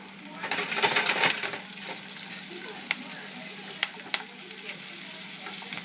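Butter and mushrooms sizzle steadily in a pan with sprigs of fresh thyme, a close, continuous hiss broken by a few sharp clicks and taps from the utensils.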